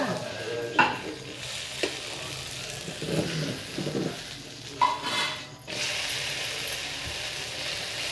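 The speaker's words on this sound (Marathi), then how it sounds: "थालीपीठ आपलं आता भाजले आता उलटून घ्यावं" Cabbage thalipeeth roasts on a hot pan after being flipped, with a soft continuous sizzle and a few clicks and scrapes of a spatula, heard close with no talk.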